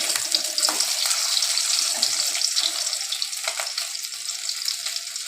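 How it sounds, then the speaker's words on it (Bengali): Pieces of katla fish fry in hot oil with a dense, continuous crackling sizzle close by, steady throughout with small bursts of spattering. "মাছগুলি মোটামুটি আমাদের ভাজা হয়ে গেছে, এবার তুলে নেব।"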